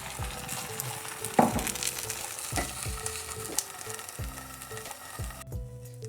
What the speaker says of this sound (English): Pan is already hot and I will drop the rest of the mixture into the pan in the middle